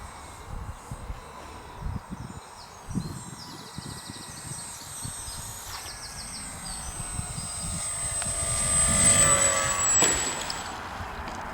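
An FMS PA-18 Super Cub model plane hums at a distance as it comes around for a throttle-controlled landing in gusty wind, its motor whine rising and swelling near the end over wind noise.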